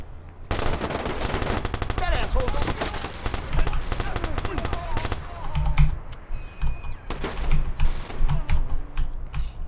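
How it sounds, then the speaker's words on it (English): Rapid automatic gunfire from a Watch Dogs shootout, dense and loud bursts filling most of the stretch with sharp cracks and a few pauses near the end. "kako ima lijep zvuk za ovaj headshot"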